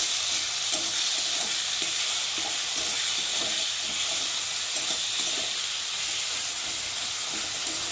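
A spice paste of turmeric, chilli and salt sautés in a pan for a tilapia fish curry, giving a constant sizzling hiss with soft, irregular stirring scrapes beneath it.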